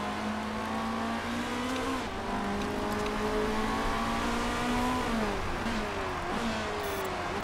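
Race cars in the Motorsport Manager video game roar continuously, with engine notes rising and falling through gear changes as several cars run close together, loud and without pause.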